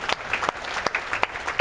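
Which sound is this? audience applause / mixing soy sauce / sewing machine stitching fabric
audience applause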